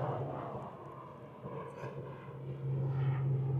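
An airplane taking off near Castletown on the Isle of Man, heard from the beach as a steady, moderately distant engine drone and rumble that holds a low hum and swells slightly toward the end.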